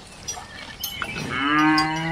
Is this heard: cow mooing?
yes